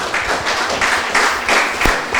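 A room full of people at a panel discussion claps steadily for the speakers for a couple of seconds, a dense even patter of applause with no voices on top.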